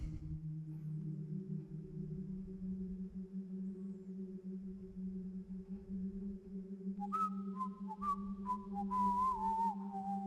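A guard's wavering whistled melody in the video game Thief: The Dark Project enters partway through, high and clear, over a steady low hum and drone in the background.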